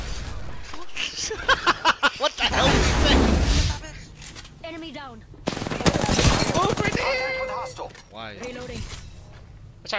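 Rapid gunfire crackles in Apex Legends, a burst of close shots followed by heavier sustained fire, with players talking over the combat.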